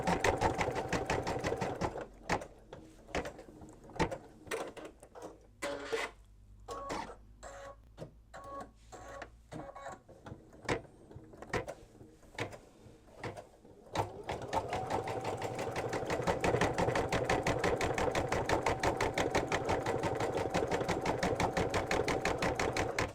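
An embroidery machine stitches a simple snowflake design on a January mug rug, running as a steady close mechanical whir with rapid needle rhythm, briefly broken into stop-start bursts midway before resuming continuously.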